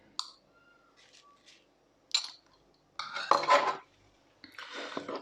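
A spoon scrapes and clinks against a bowl while mutton marinade with ginger, garlic, salt, tandoori masala and cumin is mixed, heard as sparse, close clatters and rubbing with quiet pauses between.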